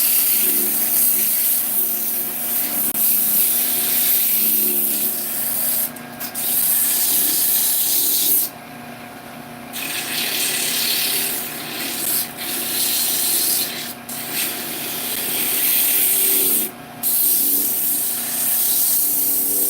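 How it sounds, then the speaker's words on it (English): Sandpaper rubbing against a spinning woodturned ornament on a lathe, a loud continuous rasping hiss with a few brief pauses throughout. "Slow it down a bit, do some sanding."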